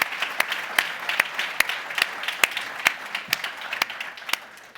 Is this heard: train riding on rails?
no